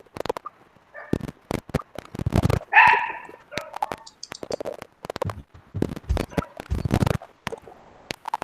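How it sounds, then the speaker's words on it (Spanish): A small dog barks in several short, sharp bursts spread across the stretch, fairly close and clear, with a slightly longer bark or yelp near the middle. "el perrito ladra"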